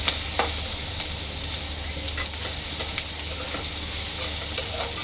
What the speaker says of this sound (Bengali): কাঁচামরিচগুলো সহ একটু পেঁয়াজের সাথে ভাজা ভাজা করবো।